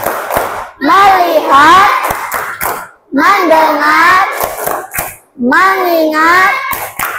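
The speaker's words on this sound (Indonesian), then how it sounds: "Untuk kesiapan kita tepuk fokus dulu." A grade 6 class in Indonesia does the rhythmic 'tepuk fokus' clap chant, voices chanting in unison in three bursts, each punctuated by sharp hand claps.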